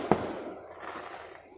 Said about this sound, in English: They're shooting fireworks over there.